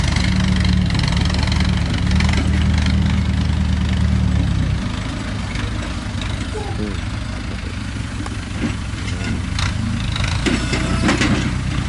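A tractor's steady, low engine drones at idle throughout, a deeper tone fading partway, with faint talk and clatter mixed in.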